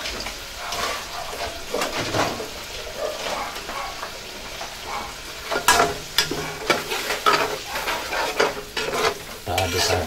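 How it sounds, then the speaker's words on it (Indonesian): Blended spice paste frying in a pan for an Indonesian dish, stirred repeatedly: a steady close sizzle with scraping stir strokes that grow louder and more frequent in the second half, no talking. "Kita aduk-aduk. Tunggu sampai penggorengan bumbu ini matang."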